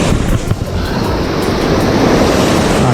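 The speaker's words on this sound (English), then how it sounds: "It's lovely having this offshore wind right to the back of those waves" Surf breaks steadily along a rocky shoreline in an offshore wind, a loud continuous wash of water with gusty wind noise rumbling across the microphone.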